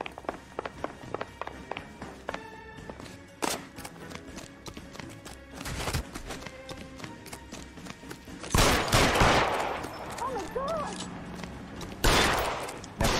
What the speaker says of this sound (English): Shoot him. Shoot him, for God's sake.